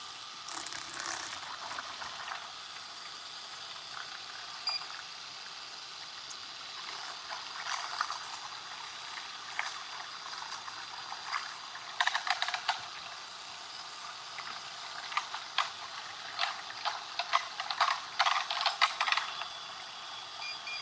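Mixed soap batter being poured into a mold, a thin liquid trickle and stream with intermittent clattering and scraping clicks, fairly close and growing busier toward the end.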